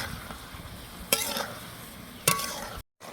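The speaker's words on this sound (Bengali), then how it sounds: "এখন কলিজাটাকে আমি মশলার মধ্যে বেশ কিছুক্ষণ ধরে কষিয়ে নেব।" Liver stir-fries in a thick spice masala, a low continuous sizzle broken by two sharp scrapes of a utensil against the pan, then a brief cut to silence at the end.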